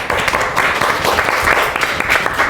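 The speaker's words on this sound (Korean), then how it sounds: "한번 박수 한번 부탁드리겠습니다." A studio audience at a table tennis talk show breaks into loud, dense clapping that holds steady for a couple of seconds. It sounds close and fills the room.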